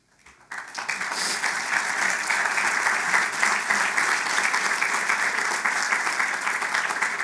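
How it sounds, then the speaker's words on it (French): Enthusiastic audience applause breaks out after a speech at an election event, a dense wash of clapping that swells in quickly and carries on loud and steady for several seconds. "c'était un peu trop tôt pour les applaudissements"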